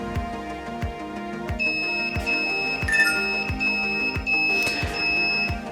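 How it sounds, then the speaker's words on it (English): An MQ5 gas sensor alarm set off by incense smoke beeps in a rapid, regular series of sharp electronic tones, loud and close, with a steady sustained tone joining partway through. "once I take it near to this MQ5 sensor, it will start beeping up"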